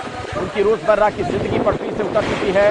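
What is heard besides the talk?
strong cyclone wind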